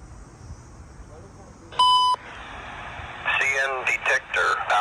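Railway defect detector on a CN line broadcasting over radio: a long single beep, then a crackly synthesized voice starting its automated report in short bursts of static-laced speech.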